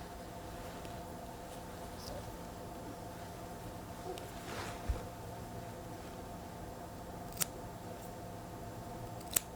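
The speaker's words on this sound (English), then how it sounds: "Let's see if it cuts hair" Yasaka hair shears snipping a small piece of hair, a few sharp, quiet, crisp cuts spaced apart over a faint steady background hiss.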